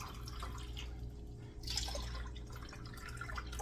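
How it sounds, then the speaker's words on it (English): Water mixed with Gatorade is poured into a container, giving a soft, trickling, dripping liquid sound. It is faint and close, over a low background hum, with no talking. "I'm now going to drink 5 pounds of water, mixing Gatorade in, of course."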